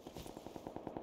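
Rapid automatic gunfire in the video game PUBG, a quick burst of about ten evenly spaced shots, moderately distant and fairly quiet.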